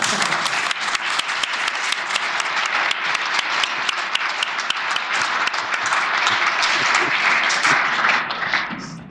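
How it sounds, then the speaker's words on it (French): A hall audience gives a dense, sustained round of applause at an evening talk, steady for about nine seconds and tapering slightly at the very end. "on peut applaudir"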